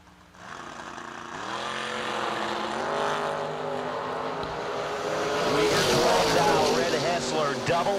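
A 1969 Camaro and an S10 pickup drag racing at a summer drag strip event, engines droning and rising in pitch across the run, loud and sustained, with a track announcer talking over the noise.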